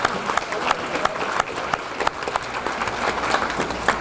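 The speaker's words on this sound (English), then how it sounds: "Let's give them one more big round of applause." Sustained audience applause at a peanut festival queen's banquet, a steady wash of many hands clapping indoors with occasional sharper nearby claps, moderately loud and continuous throughout.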